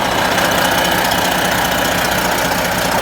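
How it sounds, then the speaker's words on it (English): A freshly rebuilt truck engine with a new piston and liner running at a steady idle, a loud, even mechanical rumble with a knocking clatter throughout and no talk. "It's ready and the truck is running."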